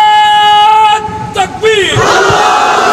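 A large gathering at a religious sermon roars back in unison, a loud sustained mass shout that rises, dips briefly, then swells again in one continuous wall of voices.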